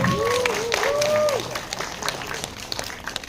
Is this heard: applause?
yes